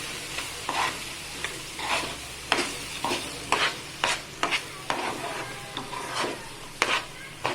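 A spoon stirs gram flour and poha in a pan, with rhythmic scraping strokes about every half second over a faint sizzle, close and moderately loud, no talking.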